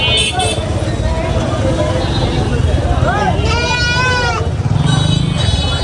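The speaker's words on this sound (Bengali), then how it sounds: "এই পাশটা হচ্ছে গরু আর ছাগলের হাট।" Goats bleat at a busy roadside cattle and goat market, several wavering cries rising over a dense crowd murmur and traffic rumble, with people talking throughout.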